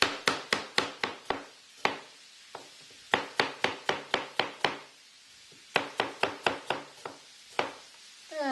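A kitchen knife chops onions on a cutting board in a skillet chicken recipe, giving sharp, rapid strikes in three bursts of about eight to ten each, close and loud, with brief pauses between bursts and no talk.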